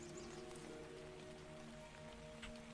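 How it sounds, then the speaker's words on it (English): Rain in the survival game Cataclysm DDA falls as a steady hiss over a low, sustained hum and faint tonal drones, with no talking. "Ah, the rain. Come on, don't go away, rain."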